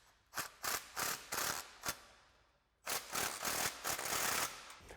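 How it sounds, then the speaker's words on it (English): A ratchet with a 15mm socket snugs up an exhaust clamp on a Jeep Gladiator JT, with quick bursts of close, sharp clicking strokes, a pause, and then another run of clicks. "Then you can take your 15mm socket and snug up the clamp."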